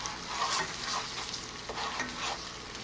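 A spoon stirs bubbling bananas foster sugar sauce in a pan, giving a steady close sizzle with repeated soft scraping strokes and no voices.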